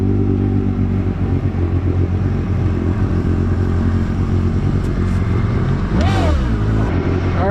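A Kawasaki STX-R 310 supercharged jet ski engine runs with a steady, heavy droning roar, close and loud, swelling into a brief rising rev near the end.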